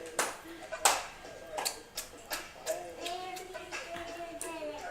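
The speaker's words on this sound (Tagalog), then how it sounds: "You clap daw your hands!" A child claps hands repeatedly at an uneven pace, about ten sharp, fairly close claps, while children's voices chatter and call out in the background.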